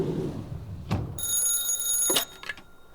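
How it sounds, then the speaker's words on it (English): A telephone rings indoors in a lakefront apartment with a high electronic trill, set between a couple of soft knocks and rustles, fairly close and clear. "John could hear the phone ring from his lakefront apartment balcony"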